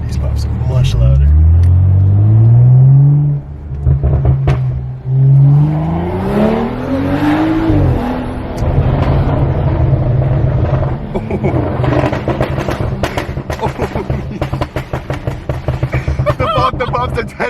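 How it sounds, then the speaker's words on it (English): A BMW F10 535 with a newly installed charge pipe, rising engine revs and then a rumbling exhaust with quick crackling pops, while people talk over it. "These pops are much louder."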